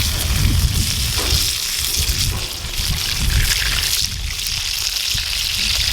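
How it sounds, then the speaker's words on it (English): Food sizzles over a campfire in strong wind and heavy rain, a steady loud frying crackle mixed with rushing wind and rain noise throughout. "Hear the sizzle."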